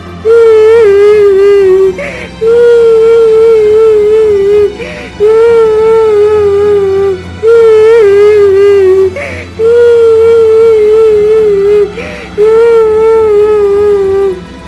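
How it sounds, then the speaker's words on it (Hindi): A woman wails and sobs in long, drawn-out cries, loud and close, with short breaks between each mournful phrase. "अरे, ये किसके रोने की आवाज है?"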